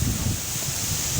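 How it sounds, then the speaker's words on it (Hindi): Strong wind blows steadily across an outdoor microphone, producing a continuous low rumbling buffet with no pauses or speech. "तेज़ हवा चल रही है यहाँ पे आप देख रहे हैं"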